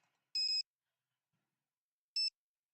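Two crisp electronic beeps from a phone in the Nancy Drew game Shadow at the Water's Edge, a longer double-tone chirp followed by a shorter one after a pause, clear and isolated against silence.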